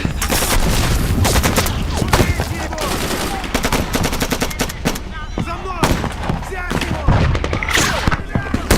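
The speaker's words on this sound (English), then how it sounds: "Who are they firing at?" Gunfire in an action movie keeps up a loud, dense barrage of overlapping shots and bursts throughout, with booming impacts and brief voices mixed in.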